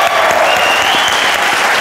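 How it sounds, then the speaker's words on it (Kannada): Studio audience at the Bigg Boss 12 reality show clapping loudly and continuously, a dense close applause with faint voices and a tone running underneath. "ಅವ್ರಿಗೆ ಚಪ್ಪಾಳೆ ತಟ್ಬಿಡ್ರಿ"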